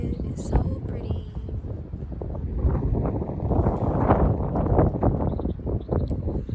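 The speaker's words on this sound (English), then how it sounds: "The wind not letting me be great" Outdoor wind buffeting a microphone with a steady low rumble that swells louder midway, under someone talking throughout.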